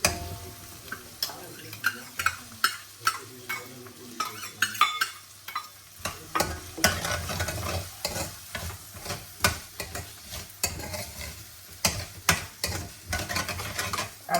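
Chili paste sautéing in a little oil in a home kitchen, a steady close sizzle broken by frequent sharp scrapes and taps of a spoon stirring the pan, with no talk.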